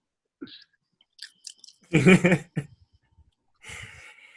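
A person imitates someone chewing Juicy Fruit gum with their mouth, making scattered wet smacks and clicks, then a louder burst of squelchy chomping, heard up close in a quiet room.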